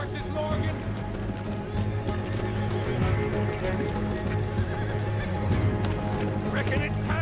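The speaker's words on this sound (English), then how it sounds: "Let's get to those horses, Morgan." Horses gallop with rapid hoofbeats and neigh during a shootout escape in the Red Dead Redemption 2 video game, loud and steady under overlapping voices and game action.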